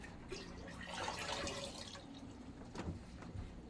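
Water pours out of a black-and-white film developing tank in a faint, steady splashing trickle, with a few quiet drips toward the end.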